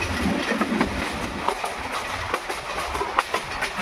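A passenger train runs on rails past tea gardens in the rain, with steady rolling rumble and rhythmic clicks of wheels over rail joints, continuous and fairly close.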